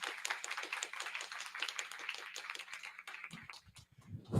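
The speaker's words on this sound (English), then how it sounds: "So I would like to give them a round of applause" An audience at a conference opening session claps for the event staff and student volunteers, a fairly faint run of scattered hand claps that thins out before a voice returns.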